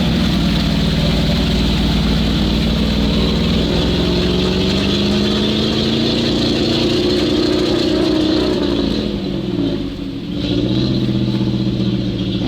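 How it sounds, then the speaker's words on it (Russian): A GAZ-66 truck engine running roughly off-road labors loudly and unevenly, its low drone rising and falling in pitch as it strains, briefly dipping near the end. "Мотор работает не очень красиво."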